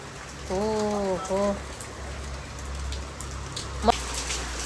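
A heavy downpour makes a steady, dense hiss that runs from start to finish. Early on, a brief drawn-out tonal call rises over the rain, and a short sharp knock comes near the end.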